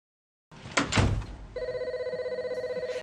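Telephone ringing at a workplace, a steady pulsing electronic bell that starts after a couple of thuds and shuffling noises, loud and close, with no talk.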